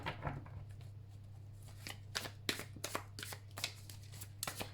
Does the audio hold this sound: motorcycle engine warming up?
no